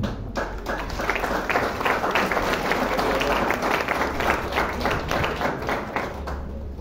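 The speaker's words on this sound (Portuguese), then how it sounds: "Un aplauso por favor para el doctor Hugo Cuella" Applause from an audience at an award ceremony during an ultrasonography conference, a dense, steady wash of many hands clapping that holds evenly for about seven seconds.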